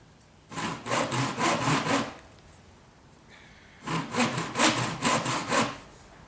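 Hand saw cutting fret slots into a wooden fretboard, two bursts of quick rhythmic back-and-forth rasping strokes, close and clear, separated by a short pause.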